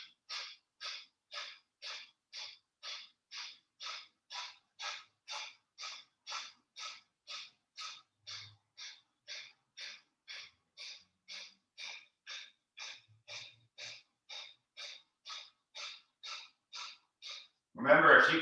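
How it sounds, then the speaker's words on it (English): Rapid pumping exhales forced out through the mouth during a yoga core breathing exercise, about thirty short breathy bursts in a steady fast rhythm, close and clear, ending in a louder, longer breath. "it's a pumping exhale out of the mouth"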